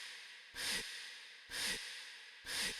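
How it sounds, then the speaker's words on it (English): A sampled human breath drawn in three times at an even pace, each inhale a short airy hiss with quiet gaps between, heard close and dry. "it's just someone breathing in"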